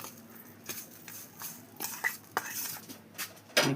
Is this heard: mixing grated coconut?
yes